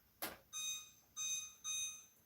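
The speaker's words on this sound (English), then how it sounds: "I'm going to set my timer" A kitchen timer in a home kitchen gives a quick click, then three separate electronic beeping tones, each about half a second long, heard close and clear without any talk.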